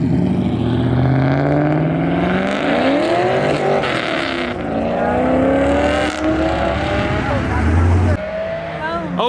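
At a car meet, an LS V8-swapped Nissan 240 revs hard in repeated rising and falling sweeps, loud and close, over a steady roar of other engines, with voices talking throughout.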